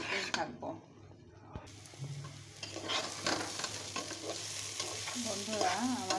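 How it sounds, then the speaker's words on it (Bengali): Rice is stir-fried with chicken in a pot for biryani, giving a steady sizzle with repeated scraping and stirring strokes up close; a voice is faintly present at times. "আমি এখন এই চিকেনের সাথে সুন্দর করে চালগালা নেড়ে চেড়ে ভেজে নেব"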